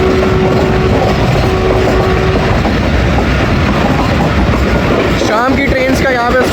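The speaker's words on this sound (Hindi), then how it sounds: "चकलाला से पास होगी 15 किलोमीटर की रफ्तार को फॉलो करते हुए 48 डाउन रहमान बाबा एक्सप्रेस" The 48 Down Rehman Baba Express runs past Chaklala at about 15 km/h, its wagons rumbling and clacking steadily and loudly all the way through, with a brief whistle-like tone early and squealing wheel screeches near the end.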